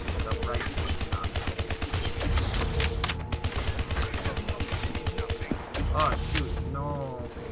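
Rapid automatic gunfire in a Call of Duty custom zombies map, dense bursts of shots rattling almost continuously at close range, with voices talking over the shooting.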